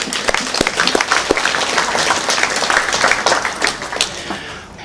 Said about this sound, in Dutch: En die mensen mag u wat mij betreft best een applaus geven zonder dat ik een naam noem.